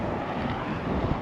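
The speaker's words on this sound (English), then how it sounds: "It's pretty windy today" Strong wind gusting across San Luis Reservoir, forecast around 18 miles per hour, makes a steady, loud broadband rush with microphone buffeting throughout.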